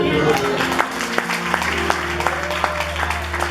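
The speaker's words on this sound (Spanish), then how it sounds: "Pero denle un aplauso a Dios" A church congregation claps during a Sunday sermon by a pastor, sharp hand claps scattered over a steady low hum and indistinct voices, moderately loud and fairly close.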